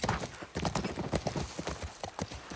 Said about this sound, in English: Just going here with my horse.